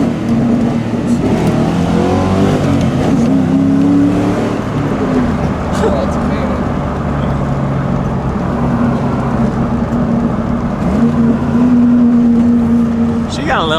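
A Ford Mustang engine under way, a loud, continuous throaty drone with rising and falling revs as the car is driven hard, carrying steadily throughout with some voices underneath.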